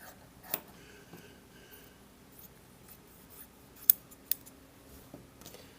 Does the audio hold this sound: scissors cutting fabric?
yes